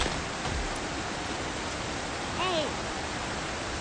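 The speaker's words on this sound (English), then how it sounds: "I can't even escape the noise when I'm not directly exposed to the rain like I am here." Rain falls in the survival video game Project Zomboid, a steady, hissing wash of noise throughout, with a brief faint warbling tone partway through and no talk.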